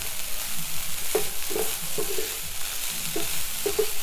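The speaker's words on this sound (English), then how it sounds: "And you just need to keep stir frying like that." Tofu stir-frying over medium heat in a pan, a steady sizzle with repeated scraping strokes of a utensil stirring at an irregular rhythm, close and alone.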